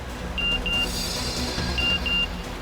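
Phone message notification beeps from a crime drama scene, two pairs of short thin electronic tones repeating across a steady background hum, no talking.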